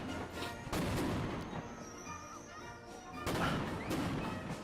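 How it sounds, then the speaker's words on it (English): An explosion outdoors, a firecracker-like bang, with a sharp broadband burst near the start and another loud blast about three seconds later, each trailing into rumbling noise. "that's an explosion"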